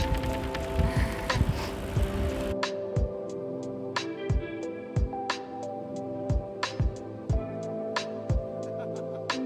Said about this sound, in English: we have to cycle 100 kilometers in the rain